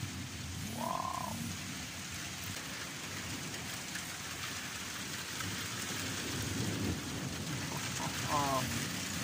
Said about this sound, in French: Premier orage de l'année, ça.